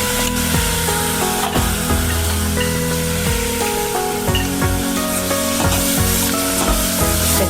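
Soaked chana dal with turmeric sizzling in a pan for cabbage sabzi, with a steady frying hiss and repeated knocks and scrapes of a spoon against the pan.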